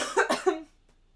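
A few harsh coughs in quick succession, close and fairly loud, then quiet.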